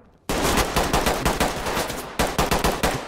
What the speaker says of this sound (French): c'est les collègues qui ont tiré en fait à travers la porte, je pense